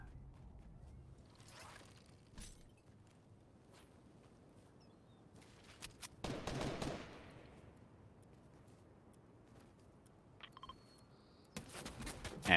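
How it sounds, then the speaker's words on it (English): Gunshots in the video game Fortnite, fired around the Sweaty Sands area: faint scattered shots and a few short bursts spread over a quiet background. "And shots fired at Sweaty Sands once again."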